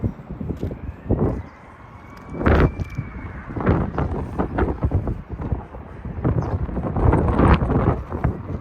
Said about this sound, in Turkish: Çok felaket rüzgar var arkadaşlar.